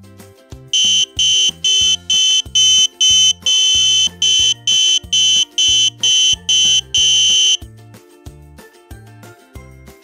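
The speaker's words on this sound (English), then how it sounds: "we are going to make music using the buzzer" A Grove buzzer module driven by a microcontroller plays a tune as a quick run of shrill electronic beeps in a steady rhythm, loud and close, then stops; quieter low tones continue after the beeping ends.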